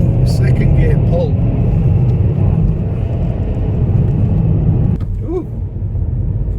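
A Kia Ceed accelerating in second gear on the road, a loud steady low engine drone with tyre and road rumble heard from inside the cabin, and a voice speaking briefly over it.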